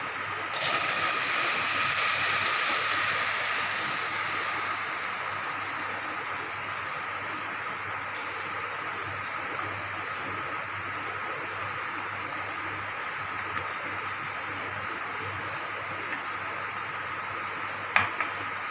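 Water gushes and hisses steadily over turkey berries being rinsed, loud at first and then settling into a constant running wash, with no talking.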